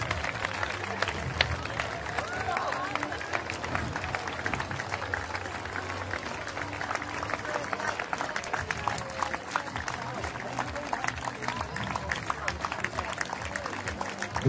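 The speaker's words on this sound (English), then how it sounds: "And a big applause to Julian" A crowd applauds a Fair Play Prize winner at an awards ceremony, with dense, even clapping that carries on without a break from start to finish.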